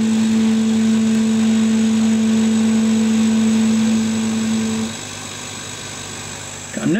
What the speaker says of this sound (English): You can hear the stepper motor making a hell of a rattle as it's trying to stop, start, stop, start, stop, start